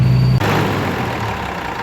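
A tractor engine idles close by in -29 °C cold with a low, continuous rumble, a brief tonal hum fading out early on.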